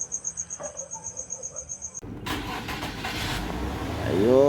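A Nissan Cefiro with an injector pulse fault cranks and fires up after repair; steady rhythmic clicking at first, then the engine catches and settles into a loud running idle that rises slightly toward the end, no talk.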